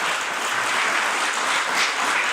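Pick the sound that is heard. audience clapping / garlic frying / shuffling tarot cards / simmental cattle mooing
audience clapping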